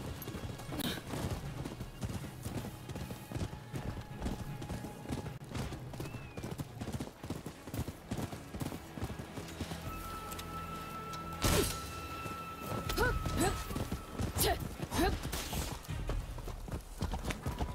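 Hoofbeats of a galloping horse in the Rise of the Ronin video game, a steady clip-clop rhythm running under dense battle noise and music, with brief whinnies close by.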